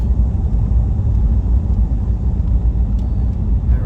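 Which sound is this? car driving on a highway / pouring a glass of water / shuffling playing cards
car driving on a highway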